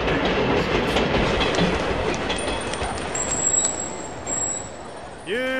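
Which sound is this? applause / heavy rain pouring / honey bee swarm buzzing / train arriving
train arriving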